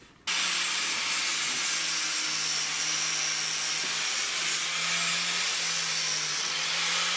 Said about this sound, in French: je vais prendre une meule, un disque à flap